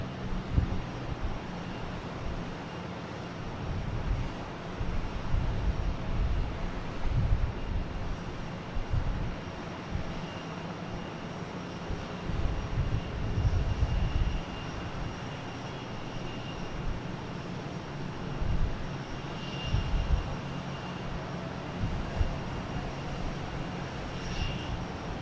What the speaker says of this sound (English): we got Etihad taking off, heading back to Abu Dhabi